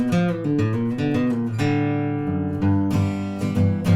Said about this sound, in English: Middle of the song, he throws in this sweet bluegrass lick